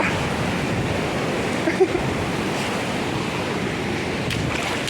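A swollen, rising river rushes in a steady, loud, broadband roar that stays constant throughout, with no talk over it.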